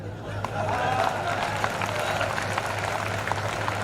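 Live audience clapping at a Hindi comedy poetry gathering, a steady wash of applause and crowd murmur holding at moderate level for a few seconds with no clear talk on top.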